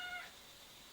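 A cat gives one short meow right at the start, then quiet room tone follows; the cry is faint and brief, with no talking.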